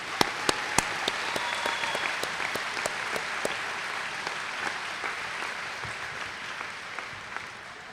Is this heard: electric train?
no